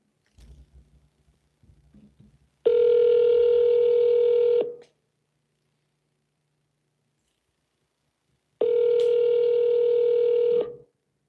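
An outgoing telephone call rings on the line: two long electronic ring tones of about two seconds each, separated by silence, with a few faint clicks and handling noises before the first ring.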